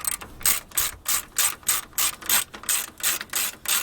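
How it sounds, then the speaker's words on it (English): A ratchet wrench tightens the bolts on a grill in a quick, steady run of sharp metallic clicks, about a dozen pawl bursts in under four seconds, close and clear with no voices. "Now, let's tighten it down."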